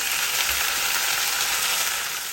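Onions frying in a pan give off a steady, loud, hissing sizzle as tomato goes in, with a soft thump near the start and constant crackle throughout.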